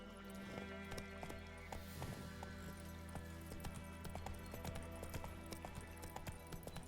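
A horse gallops in a video game, a continuous rhythmic clip-clop of hooves over a steady game soundscape, heard faintly at low volume.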